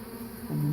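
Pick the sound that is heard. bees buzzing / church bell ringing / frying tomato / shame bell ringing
bees buzzing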